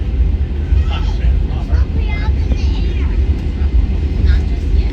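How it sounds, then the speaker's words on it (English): Airplane taxiing at Tampa International Airport, a loud steady low rumble and engine drone heard from nearby, with people talking over it. "Yeah, the plane's taxiing."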